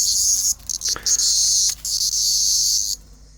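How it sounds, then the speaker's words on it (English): A cicada buzzes up close in a loud, harsh, high drone that cuts out briefly a few times, then stops near the end. "Cicadas are a source of fascination for the blind cats."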